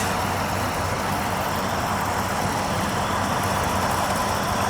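A John Deere 5075E and a Mahindra 755 DI tractor drive through a field, their engines making a steady, loud, continuous rumble with no breaks.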